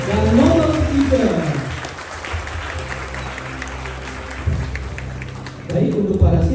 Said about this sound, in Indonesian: Sekali lagi kita berikan tepuk tangan yang meriah kepada siswa-siswi dan novel teacher